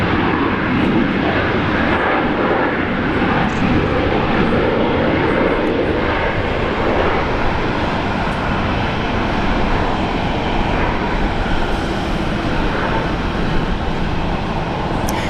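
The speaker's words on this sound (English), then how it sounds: "we've got another Dash 8 on the way" A Dash 8 turboprop landing at Brisbane International Airport, heard as a steady, loud broadband roar of engines and rushing air that holds evenly throughout with no talk.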